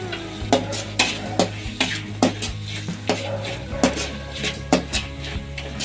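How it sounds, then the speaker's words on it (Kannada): Sliced capsicum stir-fried in a pan for egg rice, with repeated sharp spatula scrapes and clinks against the metal pan at a brisk, uneven rhythm over a steady low hiss, close and fairly loud. "ಈಗ ಕ್ಯಾಪ್ಸಿಕಮ್ನು ಕೂಡ ಹಾಕೋತಾ ಇದ್ದೀನಿ."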